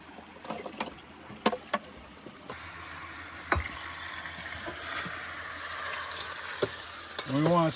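Half a cup of onion sautes in a pan in a van kitchen, a low steady sizzle with scattered clinks and stirring knocks, quiet and close throughout.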